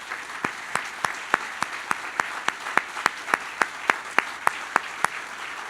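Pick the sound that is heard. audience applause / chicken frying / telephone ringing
audience applause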